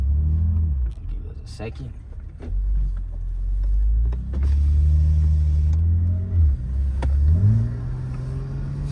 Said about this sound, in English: So right now we're gonna do a dig now, so y'all can see how the dig feels from inside and the RPMs and everything.